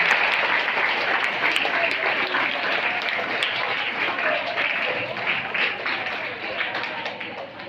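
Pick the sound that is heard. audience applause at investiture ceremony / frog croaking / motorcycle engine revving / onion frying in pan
audience applause at investiture ceremony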